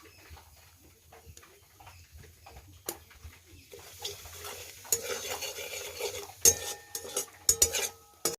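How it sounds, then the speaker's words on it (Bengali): Spoon stirring turmeric and spices into hot oil in a pan, with soft scraping and clinking against the metal, quiet at first, then louder with sharper utensil knocks toward the end. "এবারে দিয়ে দেব হলুদ, এই তেলের মধ্যে দিয়ে দিচ্ছি।"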